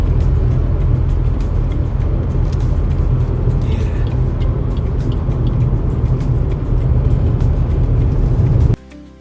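A steady, loud road rumble from a car driving along the Ganga Expressway holds throughout, then suddenly drops away at the very end.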